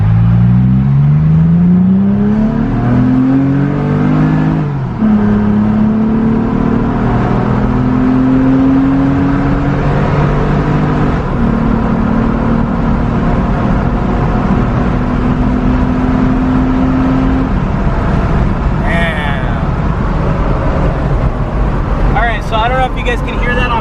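A 2016-or-later Toyota Tacoma fitted with an Injen Evolution cold air intake and dry filter pulls from a standstill, its engine note climbing loudly through a shift and holding a steady drone, heard from inside the cab with a brief voice near the end.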